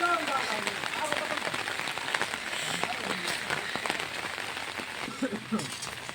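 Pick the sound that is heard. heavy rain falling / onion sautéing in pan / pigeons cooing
heavy rain falling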